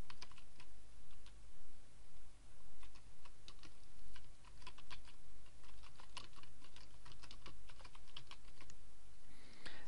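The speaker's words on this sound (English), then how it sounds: "type in the new title" Fingers tap out text on a computer keyboard, a steady run of quiet, irregular clicks over faint room hum, with no one talking.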